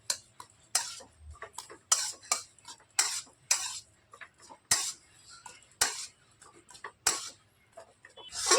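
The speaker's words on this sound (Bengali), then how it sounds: "আর একবার নাড়াচাড়া করে মিশিয়ে নেব" Spiced filling stirred and mixed in a pan with a metal spoon, sharp irregular scrapes and clinks against the pan every half second or so, close and fairly quiet, with no talking.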